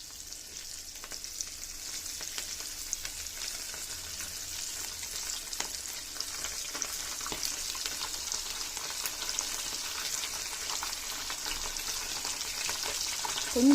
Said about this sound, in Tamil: எண்ணெயில் போட்டு பொரிச்சு எடுத்துக்கலாம்.